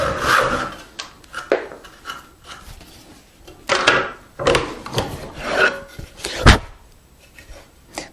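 A hand saw rasps through a wooden tenon down to a gauged line, the strokes coming in uneven bursts of rough scraping, close and fairly loud, with brief pauses between runs and a sharper knock near the end.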